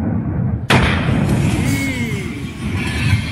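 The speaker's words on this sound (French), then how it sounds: "L'explosion a été absolument gigantesque." A rocket explodes on its launch pad with a sudden loud blast, followed by a long roaring, crackling rumble that lingers for several seconds.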